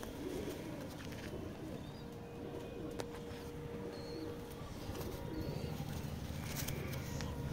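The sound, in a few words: pigeons cooing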